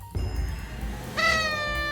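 A Minecraft cat, acquired at a witch hut, gives a short, clear meow near the end, after a quiet stretch with a faint ding at the start.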